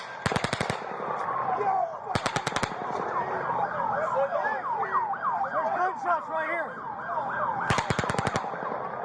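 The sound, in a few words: bursts of rapid gunfire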